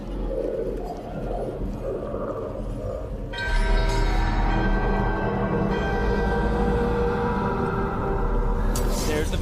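A bell rings during a ritual in the video game Dragon Age: The Veilguard, a resonant sustained metallic tone swelling over a low rumbling game soundscape, loud and lingering.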